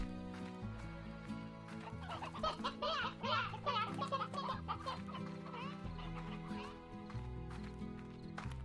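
Hens and roosters from the video game Slime Rancher cluck in a dense, overlapping chorus that peaks in the middle, set against a steady low background.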